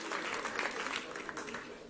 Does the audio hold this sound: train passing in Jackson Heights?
no